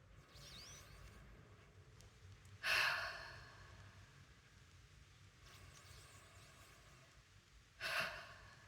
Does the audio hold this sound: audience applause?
no